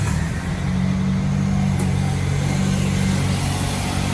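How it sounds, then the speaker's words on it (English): A 2008 Hyundai Elantra engine runs after a timing belt replacement, a loud, steady, close-up drone with a low hum and no pauses. "Fire it up, see how she runs."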